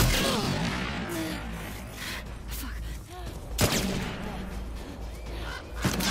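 Gunfire crackles in The Last of Us Part II, sharp bursts and a couple of loud cracks ringing over tense ambient noise and a speaking voice.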